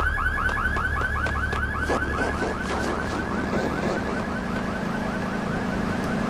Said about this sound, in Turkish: Ya bu da hep alarm, bunu da hep alarmı ötüyor ya.